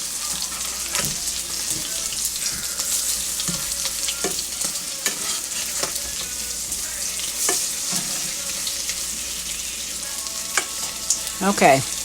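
Potato cakes fry in a pan with a continuous bright sizzle and crackle, punctuated by scattered utensil clicks and scrapes as they are turned, louder knocks near the end.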